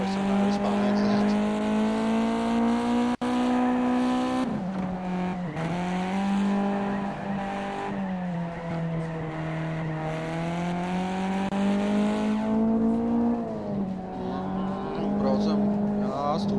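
Race car engine in the Gran Turismo 2 video game drones steadily and loudly throughout, its pitch climbing and dropping with gear changes and a brief dip near the middle, with no talk over it.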